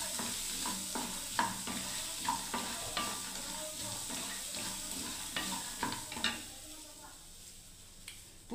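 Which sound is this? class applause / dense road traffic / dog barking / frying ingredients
frying ingredients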